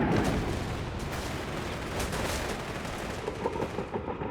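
Artillery barrage in the strategy game Company of Heroes 3, on a wintry Frost map in a 2v2 match: a dense, continuous roll of booming shell impacts and crackling gunfire, loud and sustained, with sharper bursts toward the end.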